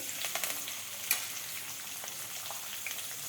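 Chopped onions sizzle in hot oil with a cumin tempering, a steady crackling fry with small pops and a brief sharper spatter, close and alone with no talk.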